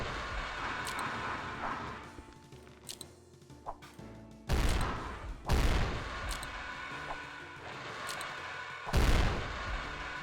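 A grenade weapon from a custom weapons mod in Doom, fired and then exploding, with several heavy booming blasts standing out loudly over ongoing game sounds.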